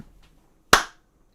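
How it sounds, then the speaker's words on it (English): One sharp hand clap rings out alone, crisp and fairly close, followed by quiet. "You got one single clap there"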